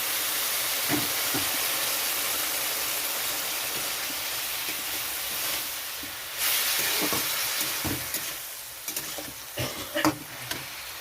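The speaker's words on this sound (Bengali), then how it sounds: "মশলাটা ভালো কষানোর জন্য একটু গরম জল দিয়ে দিচ্ছি এখানে" Hot water goes into a sizzling spice paste for a bhetki fish curry with potato and eggplant, producing a loud, hissing, steamy sizzle with scattered stirring knocks and a brief surge midway.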